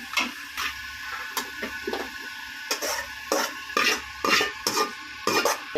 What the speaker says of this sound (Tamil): கோவக்காய் குழம்புக்கு இதெல்லாம் போடுறேன். போட்டு வதக்குறேன்.